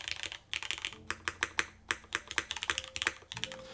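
Fingers type on a gasket-mount mechanical keyboard with single-sided gaskets, producing a steady run of crisp, close clacks in irregular bursts with a bright, open character and no voices.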